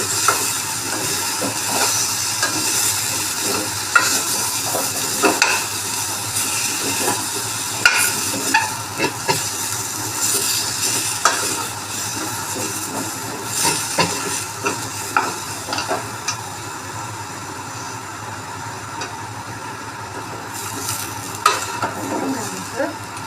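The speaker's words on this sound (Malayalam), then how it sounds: "ആ പുളി പച്ചമുളകും ഒക്കെ ഒന്ന് ഫ്രൈ ആയി കഴിയുമ്പോൾ ഇത് ഓഫ് ചെയ്യാം" Tamarind and green chillies fry in hot oil for a gooseberry (amla) pickle, giving a steady close-up sizzle with frequent stirring clatter throughout and no voices.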